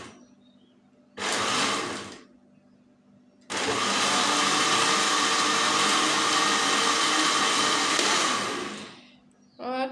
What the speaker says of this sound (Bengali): ব্লেন্ডারে জুসটা বানিয়ে নিলাম